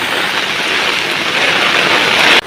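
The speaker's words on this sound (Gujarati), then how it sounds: "આ ભાઈ વરસાદ ખતરનાક જોર ચાલુ છે" Heavy rain pours down steadily during a flood at a village river, a loud dense wash of drops hitting surfaces that holds constant throughout before cutting off abruptly.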